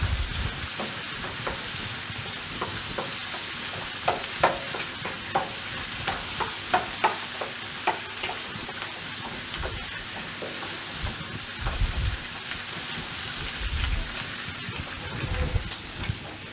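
Pork ribs and country potatoes stirred in a sizzling frying pan, with steady frying crackle and repeated scraping, clicking strokes of the utensil through the food, close up and without talk.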